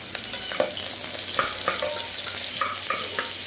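Chopped onions, bay leaf and tempering spices fry in oil for a mint biryani or pulao, a steady close sizzle with intermittent clinks and scrapes of stirring in the pan.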